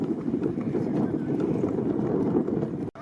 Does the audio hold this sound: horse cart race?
yes